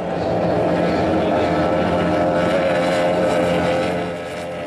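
An F1 H2O powerboat racing on Lake Toba's Balige bay circuit drones loud and steady with a high engine whine, easing off slightly at the end.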